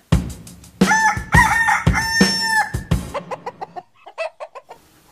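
Rooster crowing inside a chicken coop, with several loud, close crows in a row followed by a quicker series of shorter clucks that fade out at the end.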